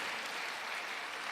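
A church congregation applauding, a soft, even wash of clapping that sounds distant and faint throughout.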